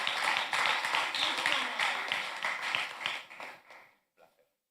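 Applause from a crowd fills the space, dense and steady for a few seconds before thinning out into a few last scattered claps.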